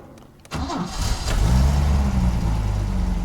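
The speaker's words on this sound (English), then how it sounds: "So let's start the car and see." A Peugeot 505 V6 car engine cranks and catches after a short quiet moment, then settles into a steady, loud, close idle with a low rumble that continues to the end.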